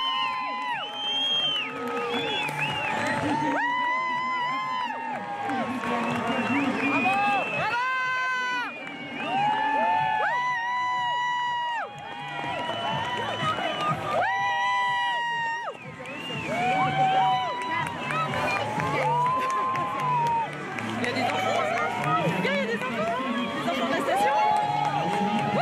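A crowd gathered on the snow front at a ski resort for a torchlight descent, cheering, shouting and chattering continuously, with children's voices rising in waves, loud and lively throughout.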